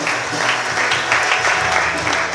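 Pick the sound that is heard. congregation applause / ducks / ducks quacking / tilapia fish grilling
congregation applause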